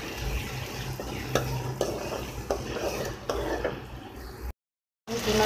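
Chopped onion and a spoonful of garlic-ginger paste fry in a karahi, with a continuous sizzle and rhythmic scraping and clinking of a spoon against the pan, a brief silence near the end.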